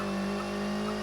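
A touring race car engine holds a steady, buzzing drone at full throttle in TOCA World Touring Cars on PlayStation 1, heard briefly and alone.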